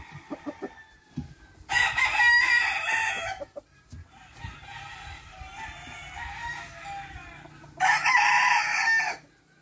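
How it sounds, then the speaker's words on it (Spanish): An indio rosón fighting rooster crows loudly and close by in two strong bursts at the start and end, with a softer crow between them and faint scratchy rustling around the calls. "Gallino indio rosón."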